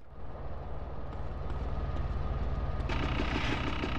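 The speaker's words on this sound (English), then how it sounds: "Follow that train!" A train rolling along tracks in GTA San Andreas, a steady loud rumble of rail noise with a brighter surge of clatter near the end, over continuous engine-like roar.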